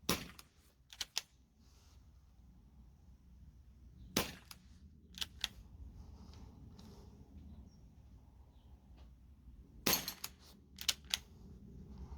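An airsoft pistol fires sharp, snappy shots at a rotating metal plinking target, a few quick clusters of cracks and pings separated by long quiet gaps, close by, with no talking.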